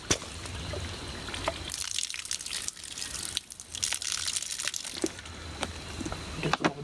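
A Smartwater plastic bottle squeezed to back-flush a Sawyer water filter gives close crinkling crunches and a gurgling trickle of dirty water outdoors, in uneven bursts with no talking.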